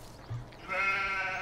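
Sheep in the farming game Farming Simulator 17 give one clear, close, drawn-out bleat after a brief low grunt, heard alone without talk.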